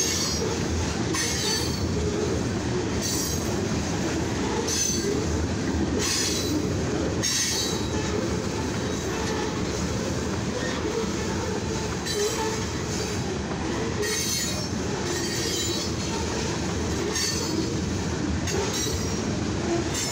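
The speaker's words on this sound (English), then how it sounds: "So this is a grain, mixed freight, and steel train." A mixed freight, grain and steel train rolls steadily eastbound past close by, wheels rumbling and clattering on the rails with occasional squeals, continuous for the whole stretch.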